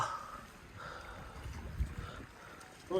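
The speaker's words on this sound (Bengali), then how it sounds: "এই ফার্স্ট টাইম আমি এরকম নৌকাতে উঠছি বিলের ভিতরে" Faint water lapping and swishing as a small wooden rowboat glides through a lotus wetland, with soft wind and occasional light knocks.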